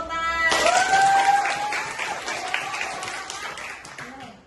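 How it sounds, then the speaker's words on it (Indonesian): Classroom of students breaking into applause, a burst of dense clapping that peaks early and slowly fades over a few seconds, with a voice briefly audible at the start and end. "Oke, tepuk tangan."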